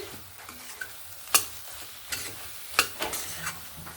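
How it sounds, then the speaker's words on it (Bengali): Spring onion stalks being stirred in a frying pan after softening under a lid, with a soft sizzle under scraping strokes and two sharp utensil knocks against the pan. "আবারও একবার ভালো করে নাড়াচাড়া করে নিলাম"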